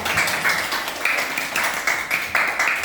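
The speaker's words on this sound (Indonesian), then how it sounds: "Tepuk tangan untuk Bagas" A classroom of students claps for a classmate, a burst of scattered hand claps in uneven rhythm, fairly close and loud, with faint voices mixed underneath.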